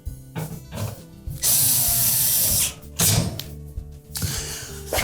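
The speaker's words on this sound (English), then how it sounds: "once we've tightened all the screws on that back panel" A tool drives and tightens screws on the back panel of a GE range. Loud, close mechanical whirring and ratcheting comes in several bursts, with one long steady run in the middle and brief gaps between.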